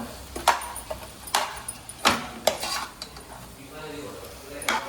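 A spoon scrapes and clinks against a pot while spice powder is stirred into prawn biryani, irregular metallic knocks and scrapes close by over a soft background hiss.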